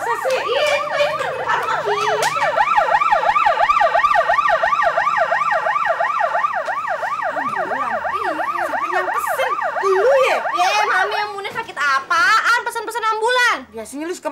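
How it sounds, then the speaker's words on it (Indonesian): An ambulance siren wails in a steady rising-and-falling sweep, loud and close, with people talking over it near the end as the tone wavers. "tapi kayaknya mam bukan pemadam kebakaran deh. Kayak ambulan."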